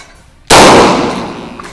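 A single sharp, loud gunshot from a 16-inch competition carbine cracks out near the microphone, followed by a long decaying ring as the blast fades away.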